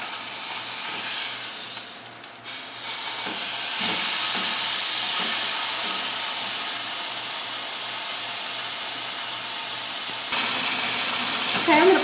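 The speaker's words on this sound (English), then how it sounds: "I'm just going to sear it on all the sides for just a second" Pot roast meat searing in a hot pan for a Mississippi pot roast, a steady loud sizzling hiss that jumps in intensity partway through and holds, with a brief handling clatter near the end.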